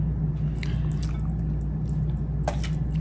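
Liquid is poured onto food, heard as wet drips and squishy splashes over a constant low hum, with a few sharper drops standing out near the end.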